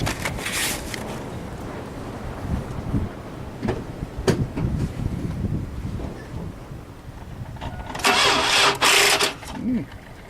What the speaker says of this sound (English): So you want to go try to crank it?